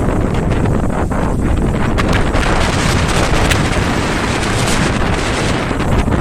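Strong wind buffets the microphone continuously on a high spot in Benidorm, a loud roaring rush with gusty swells and no voices.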